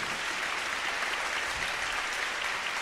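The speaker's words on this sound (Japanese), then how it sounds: "どうぞ大きな拍手をお送りください。" Steady applause from a concert audience at a live show, dense and even throughout with no talking over it.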